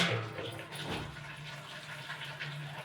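Water from cooked potatoes drains through a perforated colander in a home kitchen, a soft, faint, continuous trickle and splash heard alone for a few seconds.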